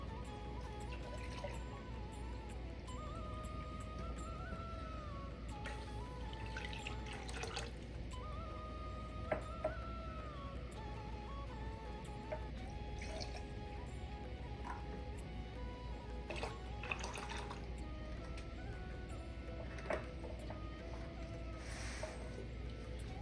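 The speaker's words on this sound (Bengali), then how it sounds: "এরপর আমি এখানে দিয়ে দিতেছি 4 কাপের মতো লিকুইড দুধ।" About four cups of milk pour into a pot for an orange-and-milk dessert, a soft steady trickle and dribble of liquid with a few drips, faint and close, over a low background hum.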